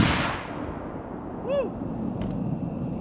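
One powerful gunshot at an outdoor shooting range, a loud blast right at the start with a long rolling echo decaying over several seconds in open air.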